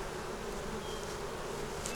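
Honey bees buzzing steadily around a honey bound hive, a dense continuous hum close by with no talk.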